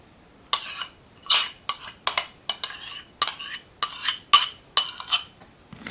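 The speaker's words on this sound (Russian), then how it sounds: "Перемешаем, размешаем это все." Eggs and sour cream being mixed in a bowl for a casserole topping, a utensil scraping and clinking against the dish in about a dozen quick, rhythmic strokes, close and clear.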